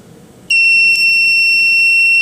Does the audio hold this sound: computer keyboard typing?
no